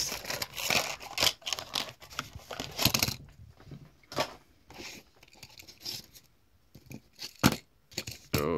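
Plastic packaging of a toy Mazda car is torn and crinkled open by hand, giving close, loud bursts of rustling and ripping, then quieter intermittent crackles and a few sharp snaps.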